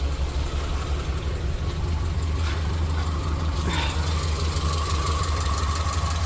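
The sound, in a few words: car engine idling, possible exhaust leak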